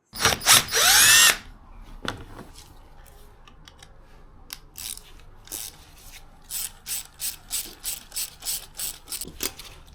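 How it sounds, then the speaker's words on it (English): A ratchet backs out fasteners on the fuel tank side panel of a Triumph Sprint ST 955i motorcycle: a loud burst of fast clicking opens, then scattered clicks, then a quick, even run of sharp ratcheting strokes close by. "now what we need to do is take the side off that fuel tank again to change the filter and maybe the pump"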